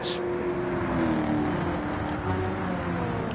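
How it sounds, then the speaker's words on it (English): Race cars in a Bathurst 12 Hour event driving in a pack behind the safety car, engines humming steadily at moderate revs with a low tonal drone and a faint whine, close and continuous. "As we have Mr. T leading the way in the safety car"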